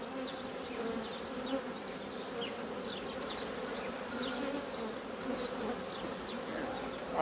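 Honey bees at an open hive frame hum in a dense, continuous buzz, close and steady, with individual bees flying past; no voices.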